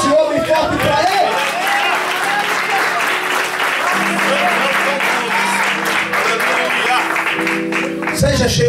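Loud congregation applause in a church service, a dense roar of clapping and crowd noise, with sustained tonal music or voices underneath through most of it and a brief pause near the start.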